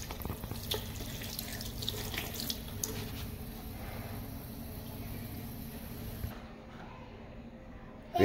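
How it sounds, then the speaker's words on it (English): A tap runs steadily as hands are washed at a sink, producing a continuous, fairly soft hiss of flowing water before it cuts off near the end. "You got to wash your hands real good."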